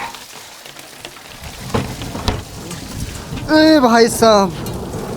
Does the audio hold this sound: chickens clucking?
no